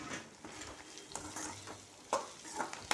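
Boiled plantain tossed into a pan with onion, turmeric and salt is stirred with a spoon. Faint scraping strokes and a few sharper clinks sit over a soft, low sizzle, with no talk.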